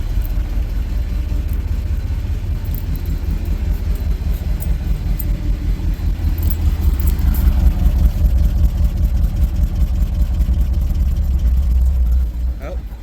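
A 1964 Ford F100 engine idles with a steady low rumble, freshly running after its stuck carburetor floats were freed. The sound is loud, close and continuous throughout, and a voice speaks over part of it.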